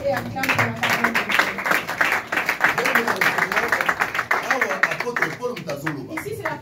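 Congregation in a French-language church service clapping and cheering together, a dense, steady wash of applause with voices layered over it throughout.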